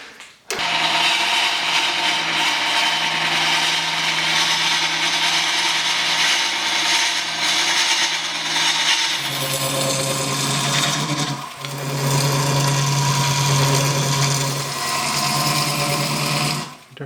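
A woodturning lathe runs continuously as a wooden bowl's mortise is deepened, a loud steady mechanical whir with a tool scraping against the spinning wood, the pitch shifting midway as the cut changes.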